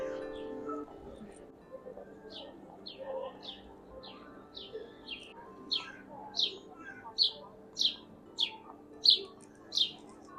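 A sparrow in Warsaw's old market square chirps in a quick series of about a dozen bright calls that grow steadily louder and closer over a low hum of the outdoor square.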